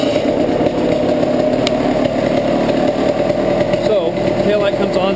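A motorcycle engine running steadily on the fuel left in its carburetor, a loud, close, continuous idle-like drone with a mid-pitched rattle that lasts the whole stretch.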